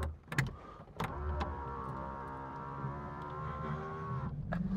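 Electric power window of an electric Porsche 911 conversion rising, a steady motor whine inside the car at low level, with a couple of clicks at the start and end.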